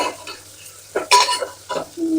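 Chopped onion and coriander fry in hot oil in a pan, stirred in short bursts that bring close, loud sizzling and scraping with brief quieter gaps between.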